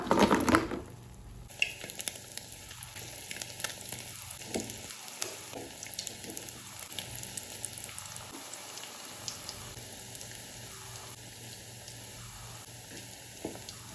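Egg 65 frying in a pan gives a faint, steady sizzle and crackle, with a louder burst at the start and a regular series of repeated beeping tones over it.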